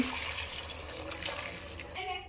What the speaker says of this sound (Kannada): 2 ಗ್ಲಾಸ್ ಅಕ್ಕಿಗೆ 4 ಗ್ಲಾಸ್ ನೀರು ನಾನು ಕುದಿಯಕ್ಕೆ ಇಟ್ಟಿದ್ದೀನಿ. ಹಾಕ್ಕೊತೀನಿ ನೀರು.